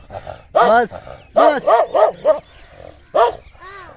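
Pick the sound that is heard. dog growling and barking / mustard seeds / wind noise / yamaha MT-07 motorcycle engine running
dog growling and barking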